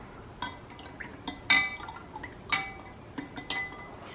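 Maple syrup is stirred into hot water, giving a series of light, scattered clinks of utensil against glass with faint liquid sloshing, quiet and close.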